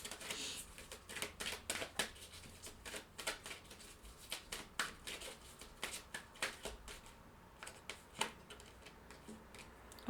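Tarot soul cards are shuffled by hand in a quiet room, producing soft, rapid riffling clicks in irregular bursts that stay faint and close, with no speech.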